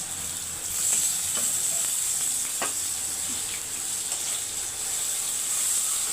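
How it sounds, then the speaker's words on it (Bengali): Hilsa fish fries in a pan, giving a steady, even sizzle with a few soft clinks of a utensil and no voices. "এক পিঠ ভালোই লাল হয়ে গেছে এবার আরেক পিঠ আমি জাস্ট একটু ভেজে তুলে নেব"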